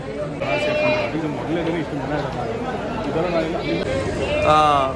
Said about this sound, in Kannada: ಇವಾಗ ನಮ್ಮ ಮುಂದ್ಗಡೆ ವರ್ತೂರ್ ಸಂತೋಷ್ ಅವ್ರದ್ದು ಹಳ್ಳಿಕಾರ್ ಜೊತೆಗೆ ಕೆಲವು ಕುರಿಗಳೆಲ್ಲ ಇದೆ